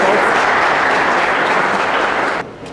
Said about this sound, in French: est-ce qu'on peut applaudir ce étoile